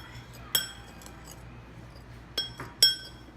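A utensil stirring sauce ingredients with tahini in a glass bowl, giving a few sharp, bright clinks against the glass with quiet gaps between them.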